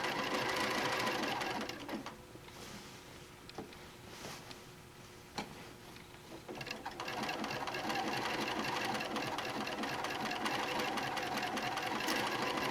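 A sewing machine stitching an applique onto a large dinosaur quilt runs in a steady rapid whir, pauses for a few seconds while the needle is stopped and pivoted, then starts up and runs steadily again.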